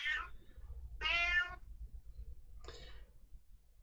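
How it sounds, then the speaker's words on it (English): A stray cat meows three times, the middle call longest and loudest, over a low rumbling background hum with no talking. "you have been followed around by a stray cat"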